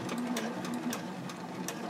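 A sewing machine stitches around a fabric pouch, running as a close, steady whirring drone with a faint motor hum and no pauses.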